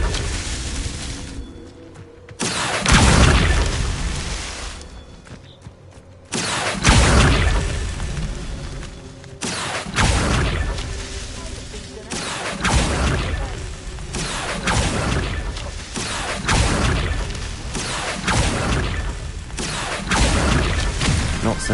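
Spell effects from Hogwarts Legacy, heavy booming bursts and crackling blasts, the first short and the later ones long and sustained, loud and dense, filling most of the stretch.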